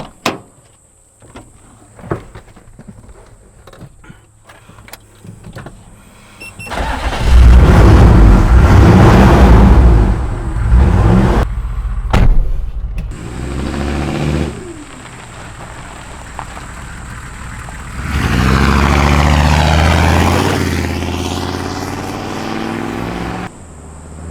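An HJ60 Land Cruiser with a Detroit 6.2L V8 turbo engine launches hard, a deep loud roar rising through the gears, briefly easing, then surging again, after some quieter clicks and knocks at the start.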